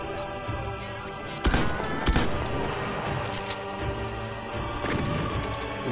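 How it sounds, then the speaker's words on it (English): Shots in Doom 2, a few sharp bangs over a dense, constant din of game noise and music, with no voices. "Who's shooting me?"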